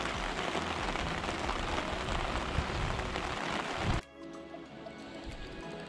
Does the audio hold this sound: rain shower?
yes